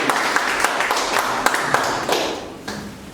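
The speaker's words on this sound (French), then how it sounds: "Applaudissez." A small audience in a French-language lecture applauds, scattered sharp claps at moderate distance that thin out and fade over a few seconds.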